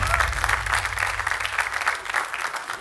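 A studio audience at a Georgian TV comedy contest claps in a thick, continuous burst as a contestant is introduced. The applause holds strong for a few seconds and then eases off, with a faint low hum behind it.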